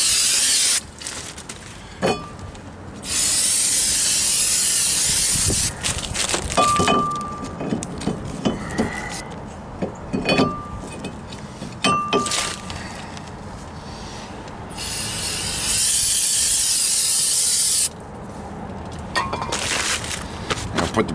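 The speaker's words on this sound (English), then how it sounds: "We'll spray them down with brake cleaner anyways." Brake cleaner hisses out of an aerosol can in long bursts onto the front brake rotors of a 2006 Toyota Corolla, broken up by clinks and clatter of parts and tools between sprays.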